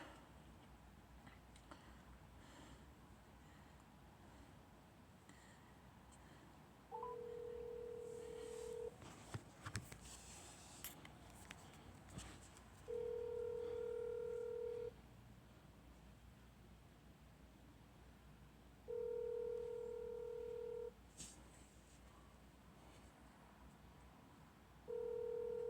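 A phone places a call, sounding four evenly spaced ringback tones a few seconds apart against a quiet hissing background, with a brief scatter of handling clicks before the rings.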